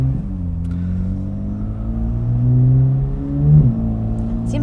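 A Chevrolet C8 Corvette Z06 engine drones from inside the cabin while driving, a loud steady rumble that swells twice as the revs climb and ease off, with no talk.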